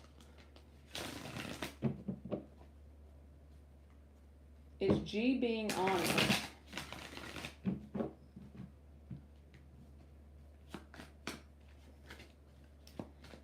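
Tarot cards shuffled by hand in bursts of crisp riffling and slapping, with a few softer taps afterwards, close and moderately loud, while a person speaks briefly in between.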